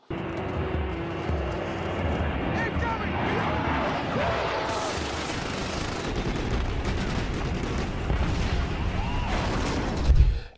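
A loud, continuous roar of an A-10 aircraft's cannon firing mixed with jet engine noise, with a brief burst near the end; faint voices come through underneath.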